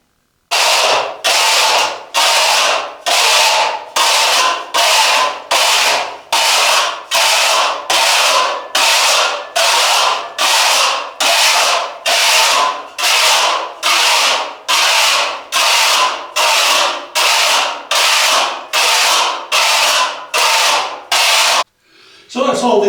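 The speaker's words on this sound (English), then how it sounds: "We've rubbed it down, scraped some off as I showed you I was doing." A plaster wall being rubbed down and scraped by hand: a long run of regular, loud, gritty strokes about one per second, close up and rhythmic, with a brief pause near the end.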